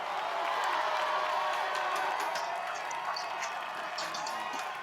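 An American Ninja Warrior crowd cheers and claps to support a competitor facing the invisible ladder obstacle, a dense, steady roar of voices and applause sustained throughout at moderate distance.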